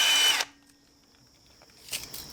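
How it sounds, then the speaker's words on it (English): A power drill bores 3/16-inch holes through aluminum sheet, with a loud high whine at the start, a faint winding-down hum, then a fresh burst of drilling near the end, all close. "drill holes in one side of this aluminum every 4 inches"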